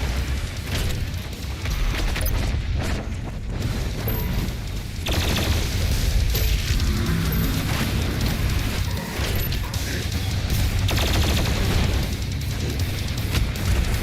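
The BFG 10,000 firing in Doom Eternal: a dense, sustained roar of booming blasts and rumbling mechanical noise that stays loud and continuous throughout, with no talk.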